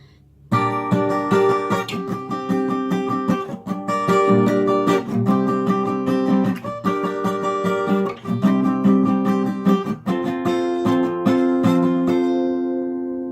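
Steady acoustic guitar strumming of a chord progression, close and alone. Rhythmic strokes repeat through several chord changes before a final chord rings out and fades.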